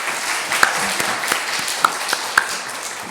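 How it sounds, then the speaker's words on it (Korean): A church congregation gives a short burst of encouraging applause during a Sunday service, steady mid-level clapping with a few sharper claps standing out over about three seconds. "우리 격려의 박수 한번 하십시다"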